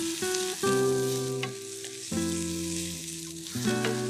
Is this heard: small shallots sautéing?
yes